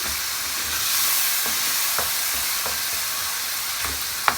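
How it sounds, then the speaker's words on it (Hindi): Tomato, onion and spices sizzle steadily in a pan for a dal palak tadka, with several soft clicks as a spoon presses the mixture down, close and constant, without speech. "अच्छे से हमने इसको प्रेस करते हुए ना भून लेना है ताकि टमाटर प्याज अच्छे से जो है ना वो मिक्स हो जाए मसाले के अंदर"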